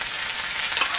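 Onions tipped into a hot pan already holding chillies, garlic and ginger for a radish bhaji give a brief, close, even sizzle with no talk over it.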